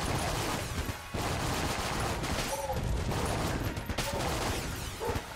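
Dense, steady gunfire fills the scene as homing shots pour out in Enter the Gungeon, with rapid overlapping bursts, brief dips near one second, and faint higher chirping effects layered in.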